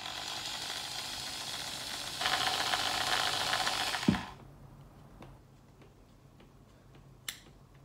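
Dexter Power electric jigsaw whirring at its lowest speed setting, a steady close buzz that cuts off after about four seconds, leaving a quiet room with a few faint clicks.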